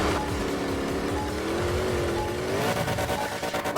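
Monster Jam monster truck, the JCB Digatron, revs its engine in a deep, loud roar with shifting pitch, rising and falling as it maneuvers in a stadium freestyle run, with no talk.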